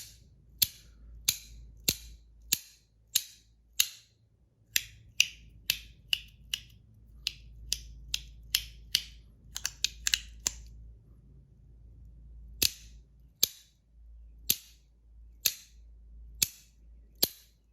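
A lightweight fidget toy with red, gold and blue layers snaps sharply and loudly, about two dozen crisp clicks in an uneven rhythm over faint background hum, with a brief pause before the snapping resumes.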